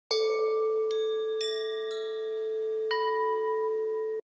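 Sampled Tibetan bells from the Stormdrum 2 library ring out in several clear, bright strikes, each new tone layering over a sustained low hum and long shimmering decay, alone and up close.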